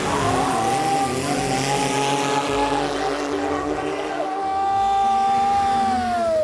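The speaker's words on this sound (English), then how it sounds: "This is long-tail boat racing." Long-tail boat engines roar at a boat race in Thailand, a loud, continuous droning whine whose pitch slides up and down as the motors rev and ease off.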